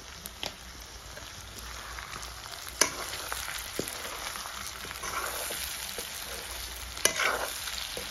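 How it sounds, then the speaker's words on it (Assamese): Pork sizzles faintly in a pan after salt goes in, a soft continuous frying hiss with a few sharp scraping knocks from a stirring utensil. "নিমখ দি অকণমান টাইম ভাজিলোঁ।"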